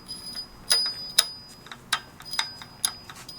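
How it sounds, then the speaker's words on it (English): Sharp, sparse metallic ticks, irregular and fairly faint, come from a red Mitsubishi Evo engine with a failing oil pump. Each tick is clearly separated over a quiet background. "This shit sound like the oil pump was already gone."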